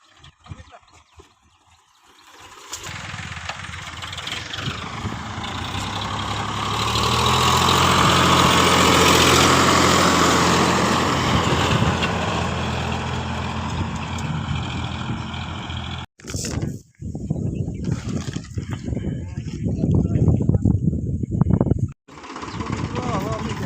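A tractor stands idling in a farm field during castor planting. Its engine drones steadily and builds to a loud, broad roar, then continues with brief cutoffs near the end, and voices can be heard alongside it.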